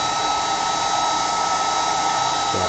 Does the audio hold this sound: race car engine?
no